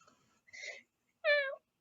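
A house cat gives two short meows, the second clearer and more tonal, close by against otherwise quiet surroundings.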